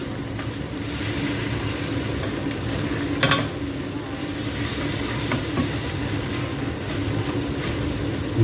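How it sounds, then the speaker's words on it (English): Fresh onion stir-fried for fried kway teow with spicy sauce hisses and sizzles continuously in a hot pan, with a brief clatter of the stirring utensil partway through. "We give fresh onion, right? We stir like this."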